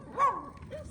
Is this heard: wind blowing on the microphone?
no